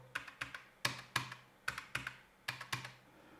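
Sharp, crisp keys on a Loupedeck+ editing keyboard click in small irregular bursts, close and fairly quiet, with brief pauses between taps.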